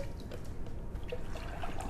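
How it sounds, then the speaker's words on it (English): A small amount of water trickles and drips into thick paper pulp during papermaking, a soft, faint pouring sound with light gurgles, close by and steady, with no talking. "so we'll add a little water"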